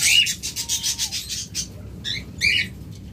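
Lovebirds in a bird shop give rapid, scratchy chirps and squawks close by, a quick run of calls followed by a short pause and two more bursts.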